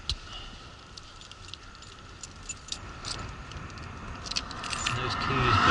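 Keys jangle in small bursts, close and clinking, over a steady background hum on a motorbike trip in New Zealand, with the jangling growing denser toward the end.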